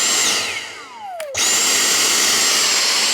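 A Dyson V6 cordless vacuum running at full suction on a bed gives a loud, steady high-pitched whine that dips in pitch and then recovers.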